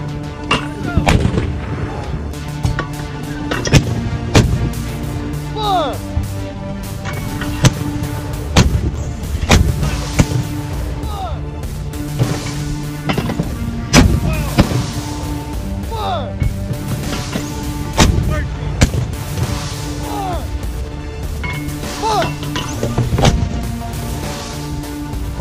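Rapid mortar fire from American soldiers: loud, close booms and blasts follow one another in a dense, irregular barrage, with voices heard underneath.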